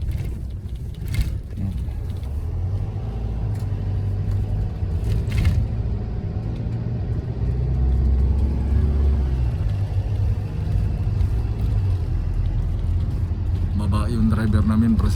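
Car on a commute to the Aisin Toyota plant, a constant loud interior engine and road rumble with low gear whine, steady throughout, and a few faint clicks and rattles near the end.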